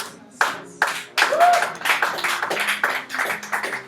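Church congregation clapping in acclamation of Jesus during a Sunday worship service, a dense burst of rhythmic handclaps joining in quickly and continuing steadily, with a brief vocal tone among them.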